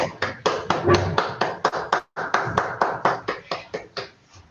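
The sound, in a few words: applause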